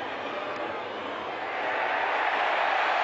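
A stadium crowd at the 1987 Melbourne vs Sydney Australian football semi-final roars after a kick, a broad wash of noise that swells louder halfway through and holds.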